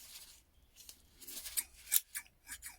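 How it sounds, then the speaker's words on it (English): Tin snips opened and closed up close, giving a quick run of crisp metallic snips and clicks with brief pauses between them and no talking. "Tin snips."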